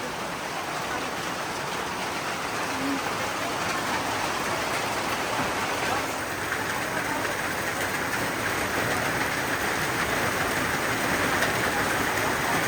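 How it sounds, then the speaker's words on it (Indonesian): Rain falls steadily during outdoor filming, a dense continuous hiss of drops on surfaces close to the microphone, unchanging in intensity throughout with no talking. "Begitulah syuting hari ini hujan-hujanan."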